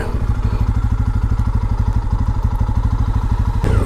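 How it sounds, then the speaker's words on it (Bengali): A motorcycle on a bike tour through a quiet, tree-lined area comes by, its engine putting out a loud, steady rapid thumping and rumbling close at hand that cuts off abruptly near the end. "দেখো আর একটা বাইক আসছে"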